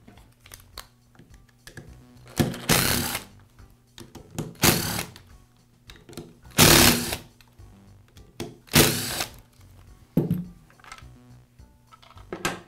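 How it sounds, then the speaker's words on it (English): Screws and a plastic top cover being worked off a Porter Cable router during a speed control repair: a series of close, sharp scraping and rasping bursts separated by quieter clicks and handling noise. "I'll begin by removing the top cover from the router"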